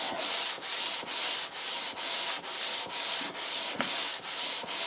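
The sole of a Lie-Nielsen No 5 hand plane is pushed back and forth on sandpaper in about ten even, rhythmic rasping strokes, close and steady with no talk.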